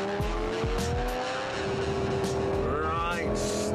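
A car braking hard from around 100 mph on a test track brings a short, loud tyre squeal over the engine note, alongside thumping knocks and bumps.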